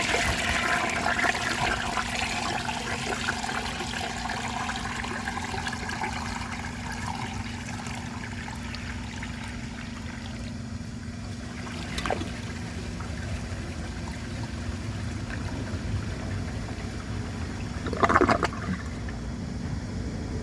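A 1992 Peerless Hancock toilet, clogged by a washcloth, flushes with a steady rushing, gurgling drain that carries on for about twenty seconds, with a couple of brief louder gulps partway through and near the end.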